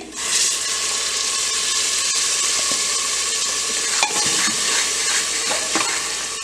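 Tomato puree sizzles loudly as it goes into hot spices with dried coriander for chole, a steady close frying hiss with a few scraping stirs and clinks near the end.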